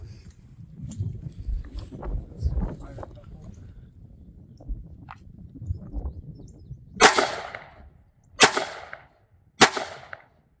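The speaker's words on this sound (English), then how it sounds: "you take a couple of shots." Three sharp, loud shots ring out in the latter half, spaced a second or so apart, from a gun being sighted in with a red dot optic, after a stretch of quieter murmuring and shuffling.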